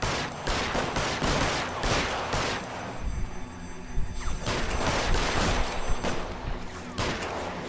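Dense gunfire in an L.A. Noire shootout during a drug war, loud overlapping bursts of rapid shots that keep going with brief lulls, close and heavy with no talk over it.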